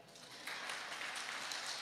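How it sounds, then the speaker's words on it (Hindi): Applause from a gathered audience at a Jain religious discourse, a dense steady patter of many hands that swells louder after the first half second and holds without a break, with no talk over it. "सभी लोग एक बार अपने लिए तालियां बजवा लो।"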